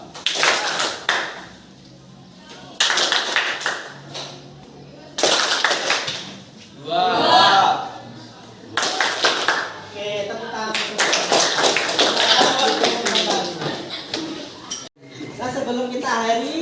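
Students in a classroom play the 369 clapping game, with bursts of group hand clapping alternating with a teacher's voice and counting; the claps come as short, loud, sharp clusters.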